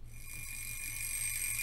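An alarm clock rings in a music track, a steady high-pitched metallic tone held continuously and fairly loud over a low rhythmic beat for the whole moment.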